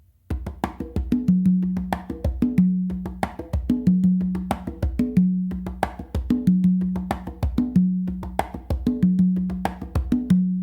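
A songo variation on three congas with one tumba hit dropped, repeating steadily as a continuous groove of sharp slaps and resonant open low tones, played alone at close range.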